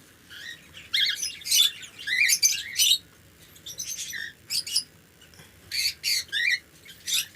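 Lovebirds in a breeding cage, a pair among them with a charcoal male, giving bursts of sharp high chirps and twittering, close and fairly loud over a quiet low background rustle.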